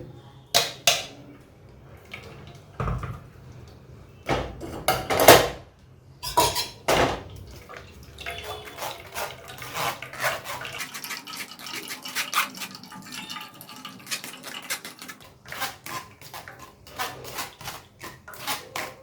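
Blended cream of tomato soup is worked through a metal strainer, with clinks and scrapes of a spoon against mesh and a bowl, irregular and close, then a softer continuous scraping.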